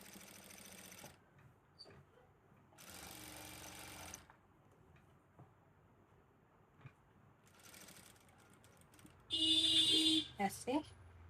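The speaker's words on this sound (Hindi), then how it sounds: "अब ऐसे पूरे में सिलाई लगाएंगे, बिल्कुल पेपर फ्यूज के बगल बगल में" An electric sewing machine stitches piping along fabric beside paper fuse in short bursts of rapid mechanical whirring, close and clear, separated by quiet pauses with faint handling sounds.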